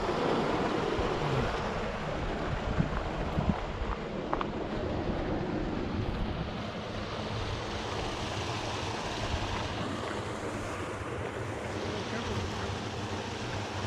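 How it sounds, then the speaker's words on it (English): Water pours steadily over a man-made waterfall ledge at a wildlife refuge, a broad, even rushing wash that stays constant and fairly close, with faint wind buffeting the microphone. "Just goes off a ledge. Yeah, you're right on the ledge. It's a man-made one. Man-made waterfall, basically."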